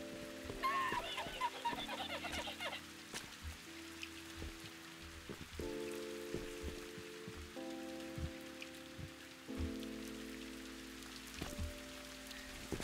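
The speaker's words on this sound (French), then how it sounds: "Vous voyez, là il pleut" Steady rain patters on a surface in the video game Viewfinder while bright, tonal game music plays over it, with a few soft clucking-like blips.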